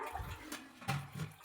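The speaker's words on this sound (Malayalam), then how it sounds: "1/2 ഗ്ലാസ് വെള്ളം കൂടെ ഒഴിച്ചു കൊടുക്കുക." Half a glass of water is poured into a pot of Kerala-style drumstick-leaf dal curry, a short soft splashing pour in two or three quick gushes, heard alone.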